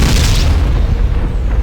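A grenade detonates in the video game Fallout Tactics, a single loud, heavy boom that fills the moment and rumbles away, with no voice over it.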